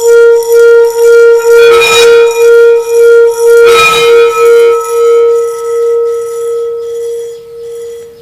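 A struck singing bowl rings out with a bright, sustained metallic tone, pulsing with a slow wobble and fading gradually after two strikes.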